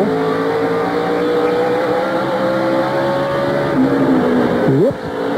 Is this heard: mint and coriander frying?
no